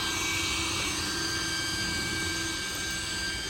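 A leaf blower pushes grass clippings across a front lawn with a steady, droning whine that stays even and unbroken, fairly faint, with no voices over it.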